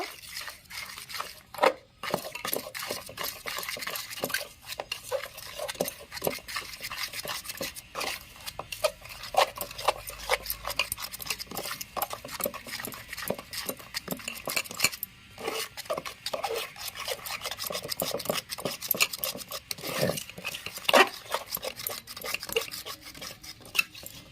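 Cake batter being mixed in a bowl, with rapid, close scraping and clinking strokes of a utensil against the bowl, irregular but continuous throughout.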